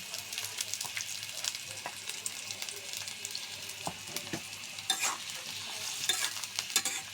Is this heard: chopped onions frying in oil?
yes